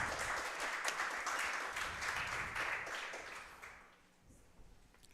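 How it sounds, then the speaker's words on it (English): An audience applauds team captains called up at a high school football coach's show, steady clapping filling the first four seconds before fading to a quiet room. "Let's give these guys a round of applause here."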